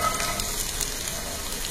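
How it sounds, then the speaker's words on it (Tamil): Chopped okra and shallots sizzle in a pan over a medium-high flame, making a steady, close crackling hiss that continues without pause or talking. "அப்படியே பேன்ல நல்லா விரிச்சு போட்டு அப்படியே பொறுமையா பரட்டி கொடுங்க."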